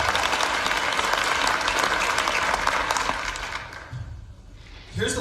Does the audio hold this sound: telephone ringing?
no